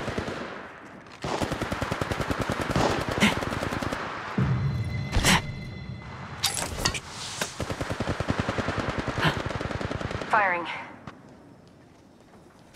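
Rapid automatic gunfire from Apex Legends Mobile, a mobile battle royale shooter, crackling in sustained bursts with brief pauses, loud and close alongside other game sound effects.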